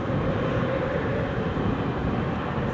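An airliner climbing steeply after takeoff from Newcastle International Airport, a steady low rumbling engine roar heard from some distance, unbroken and without speech.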